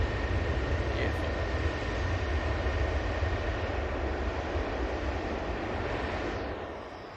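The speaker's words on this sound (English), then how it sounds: "what a racket that A380 makes" An Airbus A380 roars past at Manchester Airport, a loud, steady broadband jet rumble that holds strong for several seconds before easing off at the end; a faint voice is briefly present.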